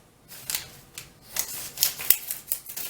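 Scissors snip through fabric, cutting circles for a doll's godet dress: a quick run of sharp, close, crisp cuts in an irregular rhythm with no talking.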